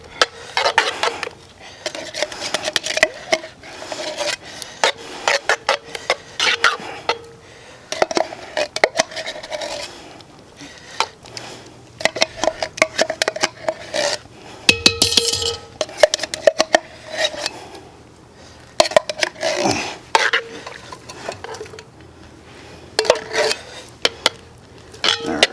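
Spoon scraping and clanking inside a cast-iron Dutch oven while mixing cobbler fruit filling, repeated loud metallic scrapes and knocks in irregular bursts, close up with no talking.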